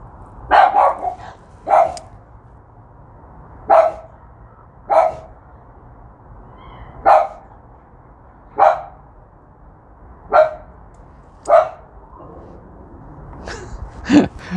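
A dog barks repeatedly at irregular intervals, single sharp barks spaced a second or two apart, fairly close, with a quiet background between them.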